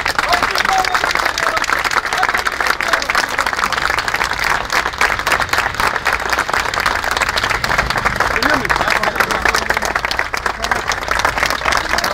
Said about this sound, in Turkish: Arkadaşımızı alkışlarla yolluyoruz arkadaşlar.